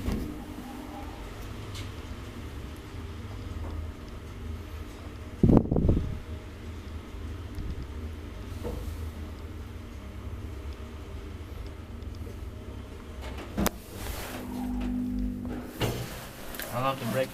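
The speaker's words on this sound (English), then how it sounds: "I love the braking sounds here." An old Kone traction elevator in a Tampere apartment building hums steadily at low level. A couple of sharp mechanical clunks and brake sounds break through, and faint talk is heard along the way.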